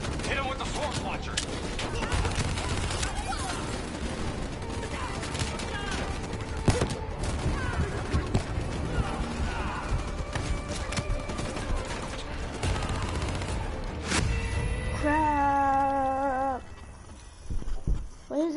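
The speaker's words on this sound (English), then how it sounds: "Hit him with the swarm launcher!" Swarm launcher fire and other dense gunfire rattle continuously through an indoor firefight in a video game campaign, loud and relentless, with tonal game effects rising near the end.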